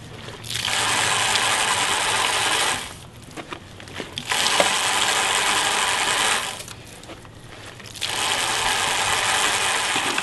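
Bicycle freewheel ratcheting as the chain is turned backwards during a wash, three loud buzzing bursts of rapid clicking separated by brief quieter pauses, close and alone.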